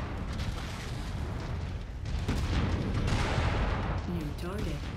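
Incoming missiles explode around a mech in MechWarrior 5, a steady roar of heavy booms and rumbling blasts with a brief voice cutting through near the end.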